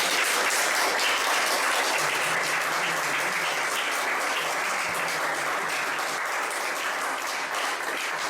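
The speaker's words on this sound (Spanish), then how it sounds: "Y voy a pedir un aplauso para" A seated audience at a Spanish-language talk applauds its guest speakers, a long, dense, even wash of clapping that stays loud and unbroken throughout.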